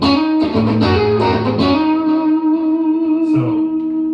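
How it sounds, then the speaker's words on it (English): A clean electric guitar through a Boss GT-1 set to a Roland Jazz Chorus-style tone with light delay and reverb plays a few sustained chords and notes, loud and close, with ringing tails and no talking. "I've got like a natural clean, which is like the jazz chorus, little delay and reverb on there"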